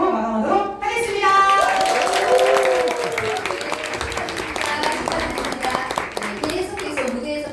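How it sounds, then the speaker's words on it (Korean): An audience at a rally claps in loud, dense applause that carries on steadily. A voice speaks over the clapping near the start. "큰 박수로 응원의 박수 보내주십니다"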